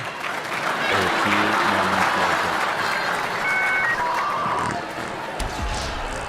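Applause from a conference audience at a US Army event: a sustained round of dense, loud clapping that swells, holds steady and then tapers off near the end.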